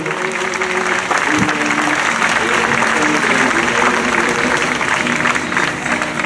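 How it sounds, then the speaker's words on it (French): Loud, dense audience applause for dancers fills the whole stretch, steady clapping from a large crowd with a few faint voices underneath. "On peut les applaudir encore, c'est des fabuleux danseurs."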